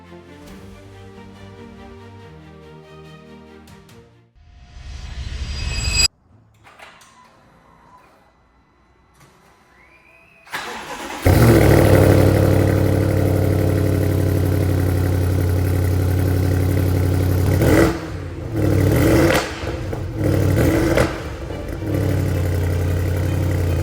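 A BMW G30 M550i with VRSF catless downpipes fires up after some quieter mechanical sounds, then settles into a loud, deep, steady idle with a few sharp revs near the end.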